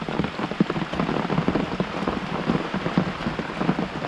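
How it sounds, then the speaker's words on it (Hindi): Heavy rain pours steadily in a forest near Yana Caves in Karnataka, India, as a dense, continuous hiss with scattered close drops. No voices are heard over it. "बारिश भी बहुत हो रही है इधर।"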